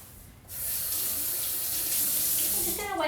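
Tap water running steadily into a sink to wet paper towel for starting Japanese maple seeds, a close, loud continuous gush that begins after a brief quiet start and carries on to the end.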